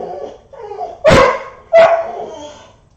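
A cur dog barks twice in sharp, loud bursts at stray dogs in the yard, with softer whining and yips before and between the barks.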